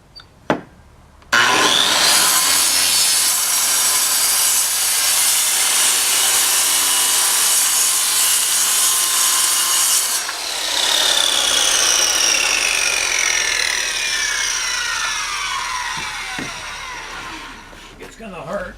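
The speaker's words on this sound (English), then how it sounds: "I might have to use a jigsaw." A jigsaw cuts through a wood panel with a loud, sustained, harsh buzzing that runs for about nine seconds, dips briefly, then carries on and slowly winds down to a stop.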